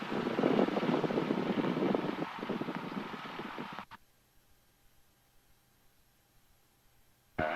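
A small training airplane's engine hums steadily while taxiing, loud for the first half and then dropping abruptly to a faint low drone before a sudden burst at the end.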